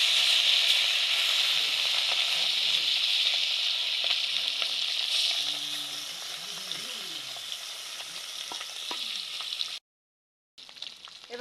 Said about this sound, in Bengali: গরম হয়ে গেছে, মাছগুলো এবার ভেজে নিব।